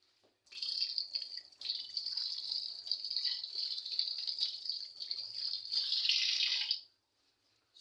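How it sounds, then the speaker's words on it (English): Hands are washed under a running kitchen tap, a steady close hiss of flowing water that gets louder near the end, then stops abruptly. "I'll show you how I wash my hands"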